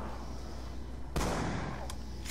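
One sharp gunshot cracks in a Call of Duty Black Ops 2 zombies game, followed by a fainter second report over a steady background hum.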